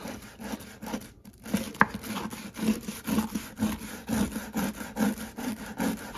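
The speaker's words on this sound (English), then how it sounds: "I'm gonna grab a hard bristled brush, but I'm not gonna press too hard because I don't wanna damage the finish of the wood" A hard bristled brush scrubs lightly over a wood finish in a steady series of close, rhythmic rasping strokes, about two per second, with no talk.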